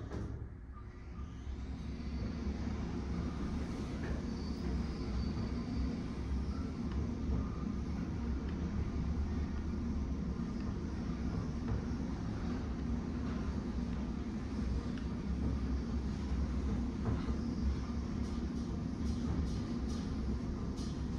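An Otis traction glass scenic elevator at a Hilton in Dallas rides upward, giving a steady low rumbling hum with faint airy whoosh that stays even throughout, with no voices.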